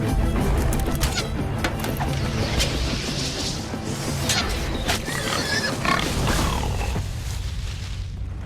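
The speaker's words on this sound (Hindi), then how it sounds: "सुअर" A wild boar grunts during a hunt amid loud, continuous crashing and rustling commotion, with rough low snorts buried in the dense noise.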